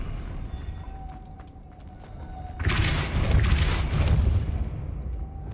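A Depulso spell cast in the game Hogwarts Legacy: a sudden loud whooshing blast that swells midway through and holds as a rumbling surge, following quieter ambient clicks.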